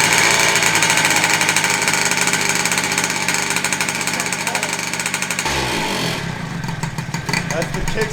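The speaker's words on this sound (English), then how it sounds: "That's the kickstand rattling on the exhaust down there." A 120cc stroker motorcycle engine runs loud and steady throughout while the kickstand rattles against the exhaust, a continuous metallic clatter under the engine roar that changes character partway through.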